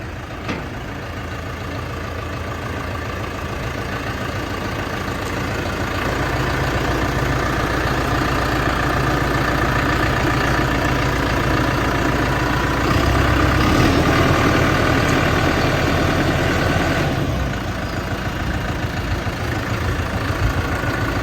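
A BASAK 2110S tractor engine idles steadily with a low, rumbling drone, its pitch and loudness rising slightly partway through before settling back.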